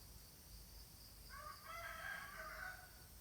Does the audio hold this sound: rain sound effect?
no